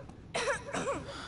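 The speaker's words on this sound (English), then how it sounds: "that cough doesn't sound too good" A character coughs in the video game Life Is Strange 2, a short rough burst of two or three harsh coughs, fairly close and clear over a quiet background.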